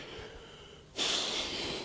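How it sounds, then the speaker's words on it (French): Heavy breathing, close and fairly quiet: a soft exhale, then a sudden louder, hissy inhale or sniff that carries on to the end. "Je ne sais pas pourquoi je respire comme ça."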